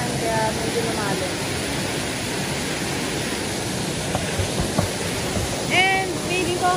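A waterfall at a park near Laur falls, San Fernando, gives a steady broadband roar of rushing water throughout, with a few faint chirps and brief voices over it.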